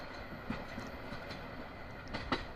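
Teesta Express running past Moshakhali station, a quiet, steady wheel rumble with a few sharp clacks from rail joints.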